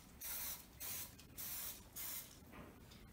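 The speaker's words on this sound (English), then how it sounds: "take some non-stick spray and gently apply it to each of the muffin tins" Four short hissing bursts of non-stick aerosol cooking spray onto a muffin tin, close by and quiet, separated by brief pauses, with a fainter fifth puff at the end.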